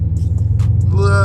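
A Dodge Charger engine drones low and steady while struggling to climb a snowy hill, close and loud inside the cabin, with a rising whine near the end.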